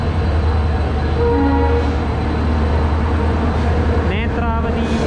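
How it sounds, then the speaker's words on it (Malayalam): Netravati Express rake rolling into a railway platform, a heavy continuous rumble and clatter of carriages with busy voices and station bustle around it. "നമ്മുടെ പ്ലാറ്റ്ഫോമിലേക്ക് നമ്മുടെ റേക്ക് എത്തി കേട്ടോ."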